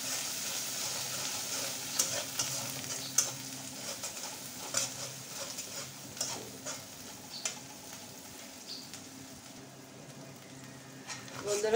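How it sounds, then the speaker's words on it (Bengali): A spice masala with chili powder is sautéed in a pan for fish curry, giving a soft continuous sizzle with scattered spatula scrapes and taps, fairly quiet and close, with faint voices at times. "মশলাটা ভালোভাবে কষিয়ে নেব।"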